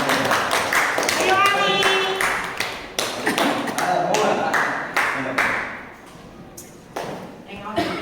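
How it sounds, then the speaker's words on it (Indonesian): Audience in a classroom gathering claps for presenters, a run of sharp hand claps close by that fade out over several seconds, with people talking over them. "Tepuk tangan buat semua."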